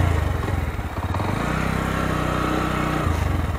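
A Bajaj Pulsar NS 125 motorcycle engine runs close by, a steady throbbing idle that rises briefly in pitch as the throttle is blipped, then settles back to a lower idle.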